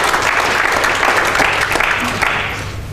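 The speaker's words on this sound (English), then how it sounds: "Is that a round of applause?" Dense, loud applause fills a conference hall at a green tourism event, a continuous wash of many hands clapping that tapers slightly toward the end.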